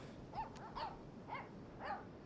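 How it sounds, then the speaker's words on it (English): A dog barks in the video game Life is Strange 2, four short barks or yips evenly spaced over a steady background bed, with no speech. "Good doggy."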